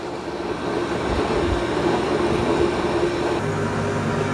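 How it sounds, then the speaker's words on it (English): Ecovacs Deebot X2 Omni robot vacuum washing its mop pads with hot water in the dock: a steady, close mechanical whir and rumble with a sloshing, churning texture, continuous with no talk. "what you're hearing now is the Ecovacs is cleaning its mop pads with hot water."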